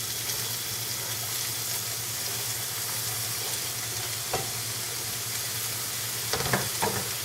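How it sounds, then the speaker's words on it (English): Chopped onion sizzles in hot oil in a pan, a steady close crackle and hiss with a few brief sharper pops near the end. "I have one little tiny piece of onion in there, and you can see it sizzling."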